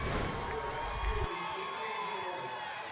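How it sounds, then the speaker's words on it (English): Student cheering section for Central Dauphin East at a Friday night high school football game against Cedar Cliff, a broad crowd roar and shouting heard from a distance, steady for a few seconds, with a thud near the middle. "there you see the cheering section for Central Dauphin East"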